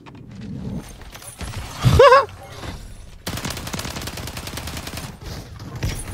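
STG 44 assault rifle firing in Modern Warfare 3, a burst of rapid automatic shots followed by a longer sustained stretch of steady gunfire, loud and close amid game effects.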